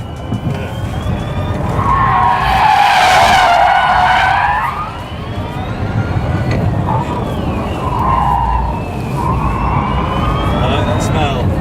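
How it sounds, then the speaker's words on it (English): A Rimac Concept_One electric hypercar drifts on a track with traction control reduced, its tires squealing in two long, loud screeching bursts that rise and fall over a steady road rumble. "turn the traction control a bit more off to push the torque vectoring into drift mode"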